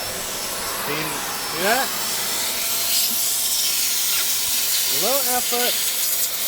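A new vacuum cleaner sucks up dirt from the floor near a chair, giving a steady hissing suction roar throughout, with someone talking over it.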